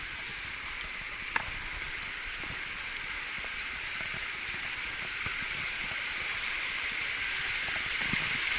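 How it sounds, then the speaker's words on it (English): A small waterfall tumbles over rocks along a rocky hiking trail, giving a constant hissing splash at moderate distance, with occasional faint knocks and no voices. "as we're approaching a little mini waterfall"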